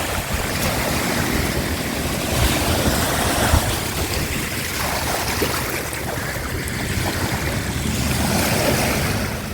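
Ocean waves wash continuously onto Aonang beach in Thailand, a dense, steady roar of surf close by with wind buffeting the microphone and no voices over it.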